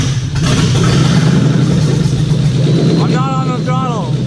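A Ford GT500 engine runs at a loud, rumbling idle close by, lumpy and steady with a clattering edge, while voices speak over it near the end.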